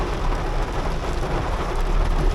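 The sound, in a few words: heavy rain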